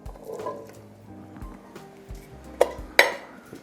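Strained canned garbanzo beans tipped into a pot of sausage vegetable soup, with a few brief metallic clinks and a soft clatter against the pot, close by with no talking.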